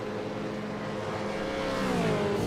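Race car engine in the iRacing video game, a V8 Supercar at Montreal, revving steadily with rising and falling pitch, loud and close with no talk.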